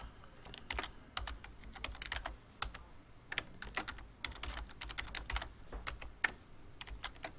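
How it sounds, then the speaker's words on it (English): Steady typing on a computer keyboard, rapid irregular key clicks close by with no talking. "I'm just going to start by typing the days of the week"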